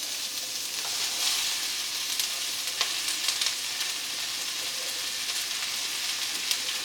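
Chopped vegetables frying in butter in a pan, a bright continuous sizzle with occasional light clicks of stirring, fairly close and without talk.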